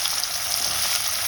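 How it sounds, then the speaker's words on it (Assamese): Chopped onions sizzle steadily in hot oil in a kadai, a close, continuous hiss of frying with no pauses and no talking. "আৰু কাটি থোৱা পিঁয়াজখিনি মই ইয়াত ঢালি"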